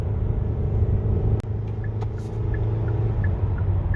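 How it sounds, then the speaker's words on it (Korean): Kia K7 Premier 2.5 engine held at high RPM while climbing a hill, a steady low droning rumble inside the cabin with faint ticking clicks and one brief sharp knock. "엔진 소음 부분이요"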